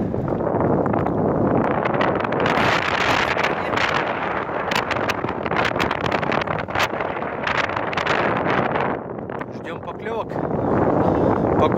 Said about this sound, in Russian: Погода портится, поднимается ветер